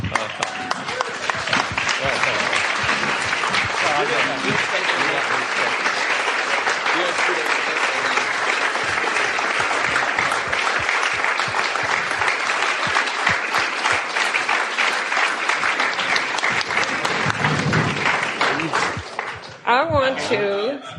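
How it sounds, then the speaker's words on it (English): A standing audience at a live talk in Vancouver bursts into sustained, dense applause that carries on at an even level for about twenty seconds before tapering off, with a few voices mixed in. "Everyone stand up right now, and we're going to clap as Sallie comes up and joins the excitement."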